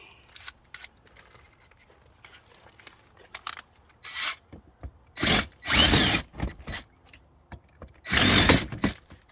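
A power drill bores into the soft aluminum wall of a camper to enlarge a hole, in several short bursts of whining and grinding, the later ones louder and longer, with quiet handling noise between them.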